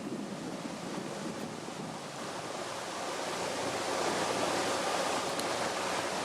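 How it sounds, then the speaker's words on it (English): Wind blowing by the sea, a steady broadband roar of gusts and buffeting mixed with surf, constant and fairly loud throughout with no voices. "As you can see, it's a little breezy today"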